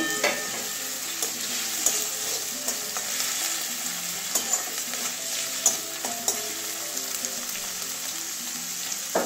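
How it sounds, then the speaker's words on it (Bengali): Chopped tomato fries in spiced oil with garlic, hissing with a bright, constant sizzle close by, broken by regular clicking scrapes of a spatula. "এবারে টমেটো কুচি দিয়ে দিচ্ছি"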